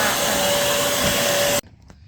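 A Shark CarpetXpert carpet cleaner runs in deep clean mode with a loud, steady motor roar and airflow whine, then cuts off abruptly, leaving quiet room sound.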